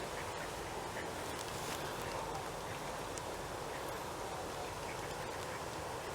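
A dense chorus of call ducks quacks continuously in a noisy, busy outdoor setting, many birds calling at once.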